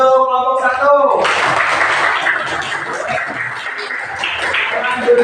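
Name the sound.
classroom applause for group one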